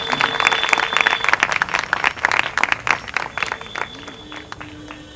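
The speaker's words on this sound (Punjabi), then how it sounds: "ਜ਼ੋਰ ਸੇ ਪਾਸਟਰ ਸੂਰਜ ਕੇ ਲਿਏ ਜ਼ੋਰ ਸੇ ਤਾਲੀ ਵਜਾ ਕੇ ਉਸਕੋ" A church congregation welcomes Pastor Suraj with a loud burst of crowd applause and clapping that starts strongly and gradually thins out over a few seconds, with faint voices underneath.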